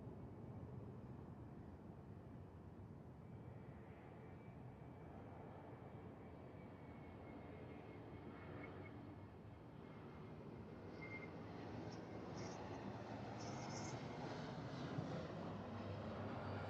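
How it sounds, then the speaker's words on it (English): Steady, broad roar of a heavily loaded Northwest Airlines Boeing 757-300 bound for Honolulu, a continuous jet engine drone that builds slightly toward the end, with no voices. "Northwest Airlines 757-300."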